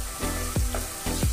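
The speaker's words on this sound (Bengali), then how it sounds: "পেঁয়াজটা একটু ভাজার পর দিয়ে দিচ্ছি রসুন পেস্ট।" Garlic paste frying with onions in a pan over medium flame for a Bengali fish head curry, a steady close sizzle with brief stirring scrapes, no voices.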